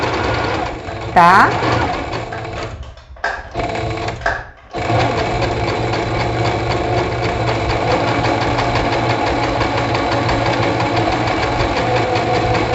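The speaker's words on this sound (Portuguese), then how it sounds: "dou o retrocesso aqui no iniciozinho e venho costurando" A sewing machine stitches a facing around a garment neckline, starting with a brief backstitch and then running in a steady, close mechanical whir that fills the second half; someone talks over the early part.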